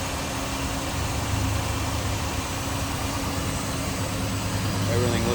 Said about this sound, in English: All you hear is a good sounding engine